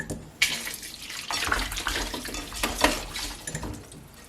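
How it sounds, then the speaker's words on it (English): Twelve fresh tomatoes are rinsed under a running kitchen tap, water splashing and gushing unevenly with small bumps and spatters as they are handled. "You want to start by cleaning your tomatoes"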